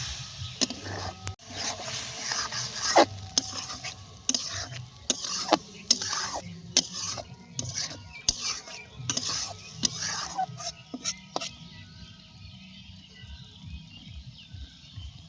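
Tomato dish with mustard, poppy seed and chilli paste being stirred and mixed in a pan, irregular scraping and clacking strokes over a soft sizzle, fading quieter near the end, no talk.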